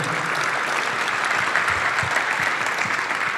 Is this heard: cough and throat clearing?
no